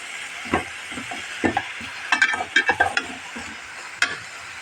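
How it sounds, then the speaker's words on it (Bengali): Eggplant and potato with dried fish being stirred and fried in a pan, with a soft sizzle under irregular scraping and clinking strokes of a utensil, several bunched together, close and moderately loud. "বেগুন আলুটাকে এখন আমি আবার সুন্দর করে কষিয়ে নেব"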